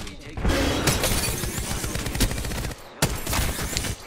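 Rapid automatic gunfire from weapons in the video game Apex Legends, dense bursts with breaking and impact sounds, briefly cut off near the end before firing resumes, loud and close.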